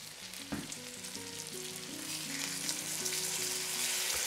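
Lemon slices sizzle steadily in a pan beside floured, egg-coated chicken, a close, continuous frying hiss. Soft music plays underneath.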